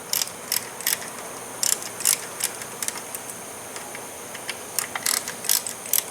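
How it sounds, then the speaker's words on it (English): A hand ratchet clicks in quick bursts while loosening T20 screws on a 2001 GMC Sonoma 2.2, with crisp metallic ticks coming in irregular clusters close by. "So I've just got a ratchet here, and I'm just going to get this thing broken loose and off of this thing real quick."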